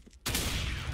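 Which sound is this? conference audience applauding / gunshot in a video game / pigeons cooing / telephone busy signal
gunshot in a video game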